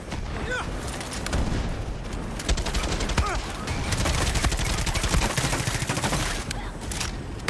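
Rockets and heavy weapons fire in Far Cry 6, a dense, continuous barrage of blasts and gunfire filling the whole stretch at steady loudness, with no gaps between shots.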